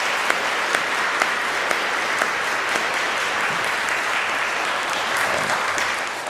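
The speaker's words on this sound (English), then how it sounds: "we give His Excellency a round of applause" A room full of people applauds at an Oxford University interview event, a dense, steady clapping that holds at even loudness throughout with a few sharper individual claps standing out.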